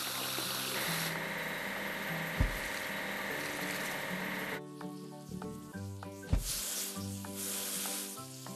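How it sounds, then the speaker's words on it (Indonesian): A glass transport wagon is washed in a construction video game with steady hissing, spraying water that runs for several seconds. A cut leads into more spraying, with occasional knocks and game tones layered over it. "Ayo cuci gerbong pengangkut kaca."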